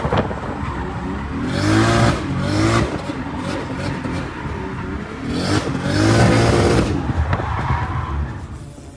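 Loud drift car engine revving hard in repeated surges with skidding tyre squeal, two strong bursts rising and falling across the clip, no talk over it.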